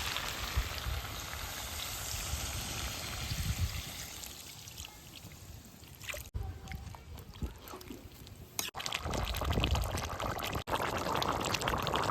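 Water poured into a pot of cauliflower and chicken curry, a steady splashing pour that runs continuously and fairly close, with a brief lull midway and then a fuller gush.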